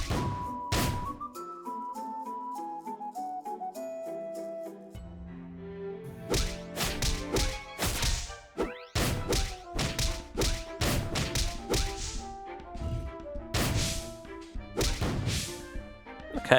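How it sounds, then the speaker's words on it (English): A Peach Bun Cannon fires in a dungeon-crawler video game, with sharp whip-like cracks and thuds over layered game music and chimes, several hits clustered in the second half. "Peach Bun Cannon was shot."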